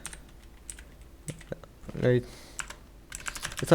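A computer keyboard is typed on in short bursts of close, crisp key clicks, with a brief louder clatter near the middle and a quicker run at the end, under a quiet room background.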